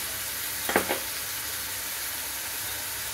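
Masala spice powder with chilli and coriander fries in oil in a pan, giving a steady close sizzle and hiss. A brief clink of stirring cuts through once early on, and nobody speaks.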